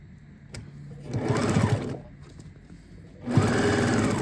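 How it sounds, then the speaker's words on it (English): A sewing machine stitches through folded outdoor furniture cushion fabric in two close, steady bursts of rapid mechanical whirring, separated by a short quieter pause. "And then I'm going to fold it in and run it under my machine."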